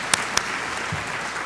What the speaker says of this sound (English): let's everybody give Mike Cluse a great round of applause